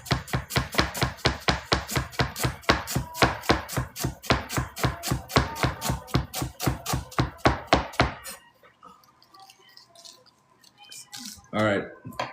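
A knife slices thinly through purple cabbage on a cutting board, a fast steady run of crisp, close chops that stops abruptly, followed by quiet handling sounds and a brief voice.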